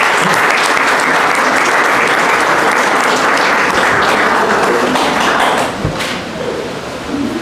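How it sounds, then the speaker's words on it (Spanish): Audience applause for a student essay presentation on discrimination against people with intellectual disabilities, a loud steady wash of clapping that tapers slightly toward the end with a thud near the close. "Recibámosla con un fuerte aplauso."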